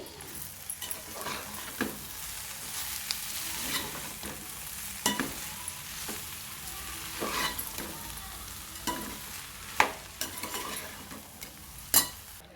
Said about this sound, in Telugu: ఇప్పుడు ఈ కొబ్బరి కూర వేసుకోవాలండి ఇప్పుడు బాగా కలపాలండి